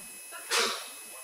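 A single short, sharp sneeze bursts out near the middle, breathy and hissy, against a quiet lecture hall background.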